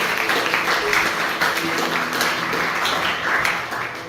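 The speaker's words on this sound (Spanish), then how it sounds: "Démosle un aplauso al Señor." A church congregation at a retreat breaks into sustained, dense applause, a steady wash of many hands clapping close by, holding level throughout with faint voices mixed in.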